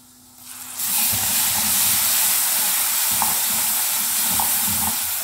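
Tomato paste hits hot frying masala for Punjabi rajma in a pan. Near silence gives way to a sudden loud burst of sizzling that stays strong and steady, with light stirring scrapes and no talking.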